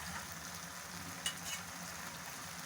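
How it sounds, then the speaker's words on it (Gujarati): Raw tomatoes sautéing in oil in a pan for chole, a soft steady sizzle with a couple of faint stirring clicks, quiet and without talk. "3 થી 4 મિનિટ સાંતળવા જ પડે છે, કારણ કે આપણે ટામેટા કાચા લીધા છે એટલે"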